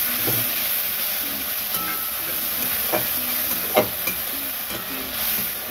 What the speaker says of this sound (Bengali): এই পর্যায়ে আমি এই যে মশলাটা বেটেছিলাম, জিরে, রাঁধুনি, গোলমরিচ, লঙ্কা দিয়ে, এটাও দিয়ে দিলাম। মশলাটা এবার কষে নিচ্ছি।